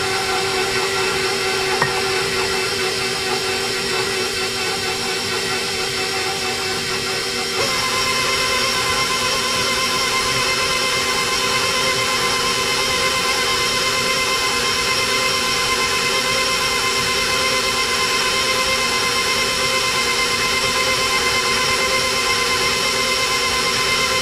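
Electric mixer beating hermit cookie batter after four eggs are added, a loud, continuous motor whine holding steady for over twenty seconds, shifting slightly in pitch partway through.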